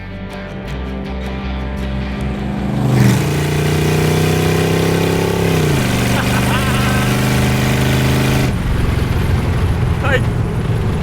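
A 1930 Ford Model A Roadster engine revs up and pulls away, the loud mid-pitched drone climbing in steps as it accelerates, then holding a steady, rough roar close by.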